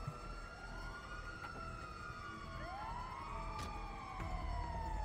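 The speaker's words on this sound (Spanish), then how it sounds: "Ahí está la ambulancia." An ambulance siren in the GTA 5 video game wails with rising and falling sweeps over a steady hum of traffic noise, running without pause for several seconds.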